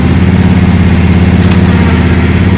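A commercial walk-behind zero turn mower engine idles at low throttle close by, a steady, even low rumble with no talk over it.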